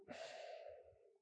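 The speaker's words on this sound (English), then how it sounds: "And then breathe out." A single close exhale during a beginner qi gong breathing exercise is steady and airy for about a second, then tapers off quietly.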